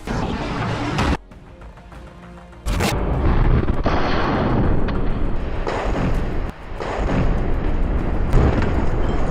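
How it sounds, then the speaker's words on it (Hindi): An RPG fired at an IDF tank: loud, dense booming blasts and crackling bursts, broken by brief quieter gaps, with repeated sharp impacts close by. "इसके बाद सामने खड़े एक टैंक पर भी अल कासिम के लड़ाके आरपीजी फायर कर देते हैं"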